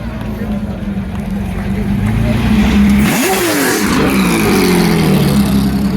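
Race car at Le Mans passing close by under full throttle, a loud engine roar with a sharp Doppler pitch drop around midway, continuous and dense with crowd and ambient noise throughout.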